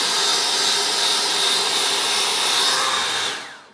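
A cheap £14.99 Dyson dupe hair dryer blows with a steady, loud, airy whoosh and high whine for a few seconds before cutting off at the end.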